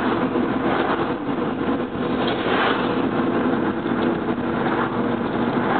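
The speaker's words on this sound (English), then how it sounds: "Cars coming." Cars pass along the scenic loop road through Cades Cove, heard from inside a vehicle as a continuous, fairly loud engine and road rumble without distinct pass-by peaks.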